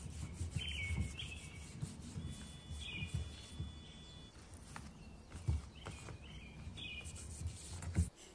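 Orchid leaves being wiped with a cleaning mixture, soft close rubbing and brushing strokes repeating irregularly, faint, with light chirps in the background.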